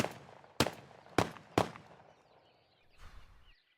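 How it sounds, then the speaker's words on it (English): A Remington Versamax 12-gauge shotgun fires four sharp, loud blasts in quick succession, each followed by a short decay. A fainter rustle comes near the end. "How many rounds can you feed through a Remington Versamax before it malfunctions?"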